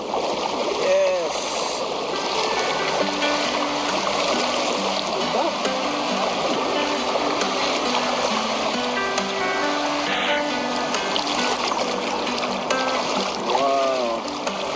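A river stream flowing where it meets the sea, a steady broad rush of water with surf-like wash throughout, loud and continuous, with faint voices and birdlike chirps over it.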